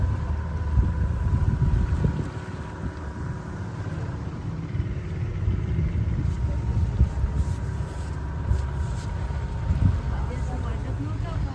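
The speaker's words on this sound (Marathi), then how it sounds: "हे दोन खडक आहेत त्याच्यामधून बोट जाणार" A motorboat on a Konkan coast sea safari threads between two rocks at sea; its engine drones in a low, continuous rumble mixed with gusty wind buffeting the microphone.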